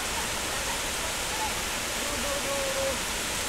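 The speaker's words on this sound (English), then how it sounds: "there's the waterfall" Steady broadband rush of a waterfall at a Chiang Mai tourist spot swollen after heavy rain, continuous and fairly close, with faint background voices.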